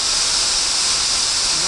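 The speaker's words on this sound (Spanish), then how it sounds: "aquí nos hemos parado a grabar la super cascada" A large waterfall in the mountains on the way toward Núria near Puigmal, a loud, dense, steady roar of crashing water heard close up without a break.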